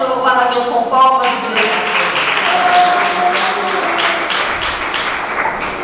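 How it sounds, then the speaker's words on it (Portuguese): A church congregation claps together in praise, a dense steady patter of many hands lasting throughout, with a preacher's voice and some singing tones heard over it at the start. "Vamos louvar a Deus com palmas"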